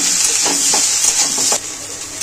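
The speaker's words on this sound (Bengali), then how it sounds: "ফের নেড়ে ছেড়ে ভাজতে থাকবো।" Diced boiled potatoes with green chili and salt sizzle loudly in ghee in a pan, with steady frying hiss and several quick scraping stirs close up; no talking.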